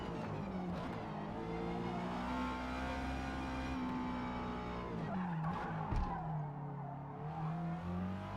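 A Honda S2000 in the Forza Motorsport racing game at Virginia Raceway runs off track, its engine droning steadily with tire squeal and skidding noise throughout, fairly quiet and with no talk.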